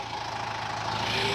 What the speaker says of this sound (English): Hey, get in the wheel of this tractor.